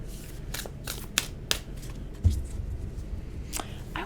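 Oracle cards are drawn and shuffled up close, giving a handful of separate crisp riffling bursts and soft card slaps against a quiet background.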